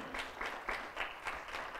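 A church congregation claps for the Lord in a quiet burst of hand claps, soft and somewhat distant, with rhythmic pulses of clapping across the short moment.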